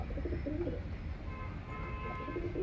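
Pigeons coo softly in short repeated phrases over a steady low background rumble. The birds sound fairly close, with no talking.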